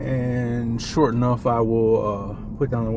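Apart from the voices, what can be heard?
No everyday noise stands out behind the speech.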